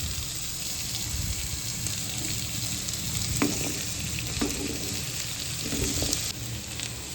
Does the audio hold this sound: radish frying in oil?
yes